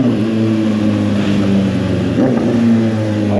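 A 2023 Honda CBR 650R motorcycle engine revs loudly and steadily up close, its rumbling tone rising and falling, with no talking.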